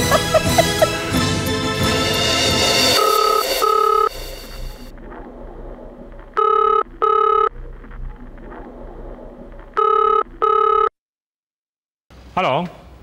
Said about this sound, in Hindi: मैं अभी इंस्पेक्टर रिजवी को फोन करता हूँ।